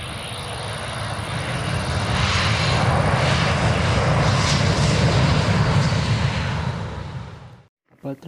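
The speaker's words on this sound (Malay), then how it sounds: "Kapal terbang jemaah haji mendarat di lapangan kapal terbang Madinah, Arab Saudi." A plane carrying hajj pilgrims lands at Madinah airport in Saudi Arabia, a loud, sustained broadband engine roar that swells, holds steady, then cuts off abruptly near the end.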